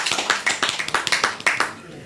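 Scattered hand clapping at a Delhi election 2025 gathering, a handful of sharp, close claps in an uneven rhythm, with brief voices mixed in.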